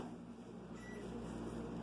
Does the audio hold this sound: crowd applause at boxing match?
no